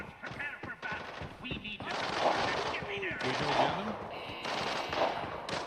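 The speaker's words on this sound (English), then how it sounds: "The gunfire in all directions now" Rapid bursts of gunfire in the game Arena Breakout crackle from several directions, with a voice talking over parts of it.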